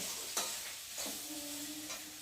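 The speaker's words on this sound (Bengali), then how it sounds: "আলু ভাজাটা একটু ভালো করে মেরে দিই তলা লেগে যাবে" Fried potatoes are stirred and scraped around a pan with a few distinct utensil strokes over a quiet, steady background sizzle, close and moderately loud, with no talking.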